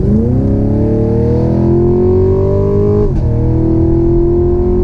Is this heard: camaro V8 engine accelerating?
yes